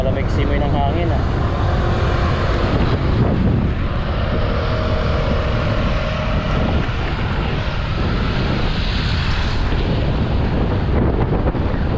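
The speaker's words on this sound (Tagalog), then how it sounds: "Malamig simoy ng hangin ah." Cold wind blasts steadily across the microphone while riding over Manggiragday Bridge in Pangasinan, a loud continuous roar filling the whole stretch with no letup.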